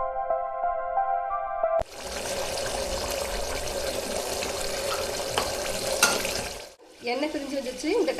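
Steady sizzling and bubbling of tamarind paste simmering in oil for tamarind rice, a dense hiss that continues for several seconds, preceded by a brief humming tone and followed by faint clatter.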